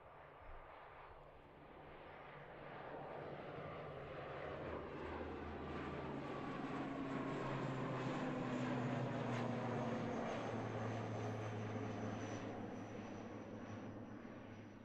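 An ATR turboprop airliner takes off at Christchurch Airport, its propeller drone and engine roar swelling from a distance, peaking near the middle and then easing slightly as it climbs away, with no voices over it.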